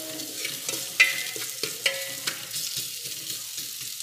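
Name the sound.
beef frying in a pan while being stirred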